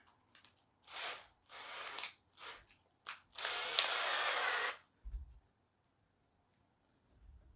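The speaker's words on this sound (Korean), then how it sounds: "여기에 구멍을 하나 더 뚫습니다." A hand drill boring a hole while making a homemade grounding stick, with several short whirring bursts of varying length, the longest about two seconds, close and clear against near silence.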